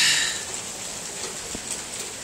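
Light hail mixed with rain falling on a porch while the sun is out, a steady fine patter with a faint tap or two, fairly close and continuous, no voices.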